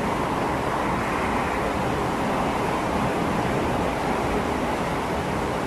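Heavy rain pours down in a dense, unbroken hiss at a steady moderate level, heard from indoors behind a closed door, with no pauses or speech.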